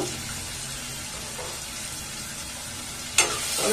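Onions sautéing in a pan with a pinch of salt, a soft, even sizzle held at moderate level, broken late by one sharp clatter and a brief burst of louder noise.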